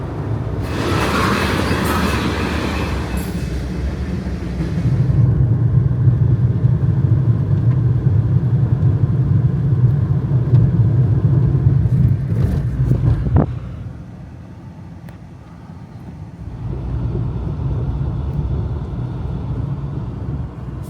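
A car drives down a rural dirt road, giving a steady rumbling engine and tire roar that grows heavier midway, drops off briefly, then returns, with no talk over it.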